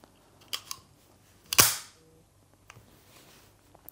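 The slide of a Mauser HSc pistol slams forward after a magazine is reinserted: one loud, sharp metallic snap close by with a short ringing decay, set between a few small handling clicks.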